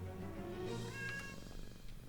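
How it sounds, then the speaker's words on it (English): Cat meowing in the video game Shadows Over Loathing, a short tonal game sound effect set over a steady low background hum, with a few faint clicks toward the end. "Hey, kitty."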